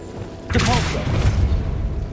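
A Depulso spell is cast in Hogwarts Legacy, bursting out as a sudden booming blast about halfway in, then trailing into a sustained rumbling wash, with a voice audible alongside.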